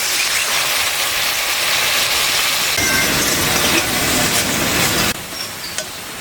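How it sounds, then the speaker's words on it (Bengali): Water is poured into a cooking pot of ground chilli, coriander, cumin and Kashmiri chilli powder, a close, steady rushing pour that shifts in tone midway and then cuts to a quieter sizzle near the end. "সামান্য জল দিয়ে দিচ্ছি।"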